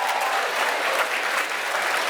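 Audience at a school gala in Moncton claps in a dense, even burst of applause, steady and fairly loud for a couple of seconds.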